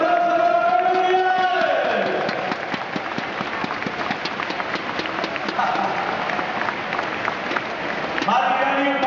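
Audience applause breaks out at a trial motorcycle exhibition in the Riazor sports pavilion, a dense, steady clatter of clapping with crowd noise filling the hall for most of the stretch, loud and close throughout.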